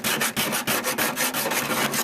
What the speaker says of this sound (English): we're going to do that with a small file. Stick it in there and run it back and forth until that track runs freely with the bolts.